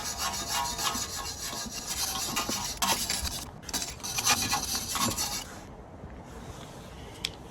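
Someone scrubs a BMW rear brake assembly, with the rattling handbrake shoes fitted upside down, in close, rasping back-and-forth strokes that keep a busy, irregular rhythm and then ease off to lighter rubbing near the end.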